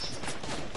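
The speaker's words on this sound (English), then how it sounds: "Someone shooting at me." Gunfire in a console shooter video game, a dense burst of rapid shots filling a short moment at close range, with no talk.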